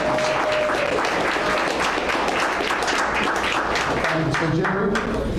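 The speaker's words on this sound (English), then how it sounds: "Could we give it a round of applause?" An audience claps for a sponsor who is being introduced at an event, a dense, loud burst of applause that keeps up steadily for several seconds, with a few faint voices underneath.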